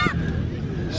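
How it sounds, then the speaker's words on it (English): Geese or similar waterfowl honk at a beach while people feed them, a close cluster of overlapping honks over steady crowd and shore noise with voices in the background. "These birds like the food."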